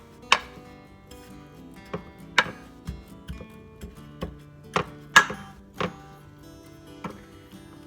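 Graham cracker crust being packed down with a rounded measuring cup, giving a series of about a dozen sharp, close tapping thuds at an uneven, unhurried rhythm with no talk.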